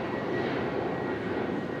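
A jet airliner landing at Brisbane Airport, a loud, steady roar of engines filling the short stretch with no pause.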